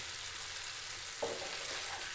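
Fried potatoes and green chillies drop into a sizzling village-style Bengali chicken curry, a steady close fry hiss swelling briefly as they hit the pan, with no voices.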